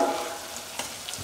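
Tomato, green chili and ginger-garlic frying together in a pan give a short, close burst of sizzling with a few faint stirring clicks, and no one speaks.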